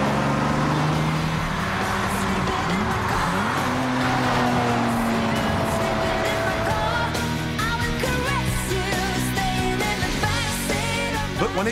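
A Bugatti supercar accelerates hard at high speed, its loud engine note rising through the gears with tire squeal and skidding, close and continuous throughout with no talking.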